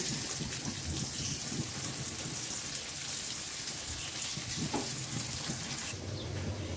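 Malabar spinach simmers down in a wok as its water cooks away, giving a steady close bubbling sizzle, rain-like and even throughout, with no talk.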